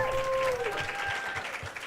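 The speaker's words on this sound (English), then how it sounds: "Let's give a huge round of applause to this great panel." Clapping rises from an audience thanking a panel on running and mental well-being, moderately loud and steady, with a few brief tonal sounds over the start.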